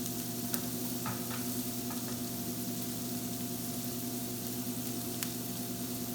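Onions and garlic sauté steadily in a pan over reduced heat for risotto, a soft continuous sizzle with a few faint clicks of stirring, close and even throughout.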